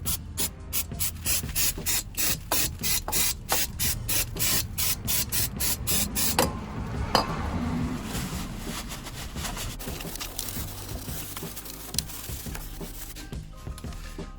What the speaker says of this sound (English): when we spray the brake cleaner on it